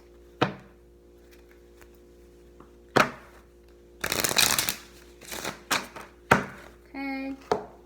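A tarot deck is shuffled by hand, close and crisp, with a few single card snaps early on and then a run of rapid riffling bursts, ending with a short tonal sound.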